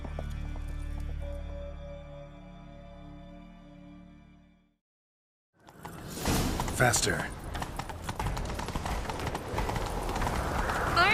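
Horses galloping in The Witcher 3: Wild Hunt, hooves clattering in a quick, loud rhythm under music and game noise after a brief silence, with a voice urging the horse on.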